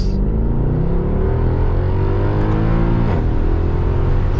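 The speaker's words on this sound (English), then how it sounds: "so you can hear that V8 noise" A 500 hp V8 sports car engine revs hard while driving, giving a loud, continuous close-up roar whose pitch climbs steadily, with no talking over it.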